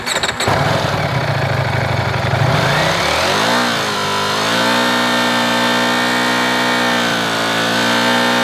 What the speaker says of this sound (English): Now we are going to rev the engine at 7000 RPM and check the sound again.